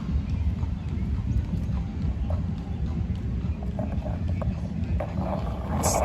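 Horse hooves clip-clop steadily on a hard New York City street at night, a bit distant, under a constant background rumble.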